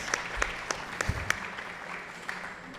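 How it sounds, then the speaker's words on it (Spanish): Audience clapping for a poem recital, a short, fairly sparse round of applause with distinct separate claps, moderately quiet and fading toward the end. "Quiero pedir un aplauso de parte del público para este hermoso poema"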